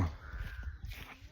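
Several crows caw in short, rough bursts at moderate distance, overlapping with some low rustling.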